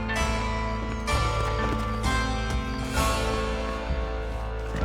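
Horses' hooves pounding in a Red Dead Redemption chase, a steady galloping clatter set under a constant bed of game music and ambience, loud and close throughout.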